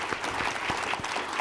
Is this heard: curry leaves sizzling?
no